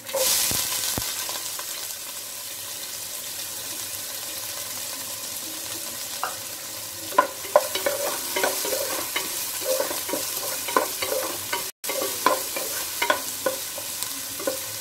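Two large, finely chopped onions fry in hot oil after tempering for bhindi masala, a steady close sizzle that settles as the stirring goes on, dotted with sharp spoon scrapes and taps against the pan, and no talk.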